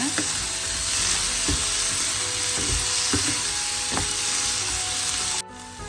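Garlic and dried red chillies frying in a pan for a mutton curry give a dense, steady sizzle, punctuated by several soft knocks and scrapes from stirring, before the sound drops off sharply near the end.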